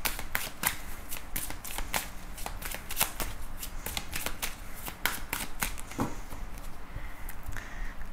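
Tarot cards shuffled by hand in a steady run of crisp riffles and soft slaps, close and clear with no talking, over about eight seconds.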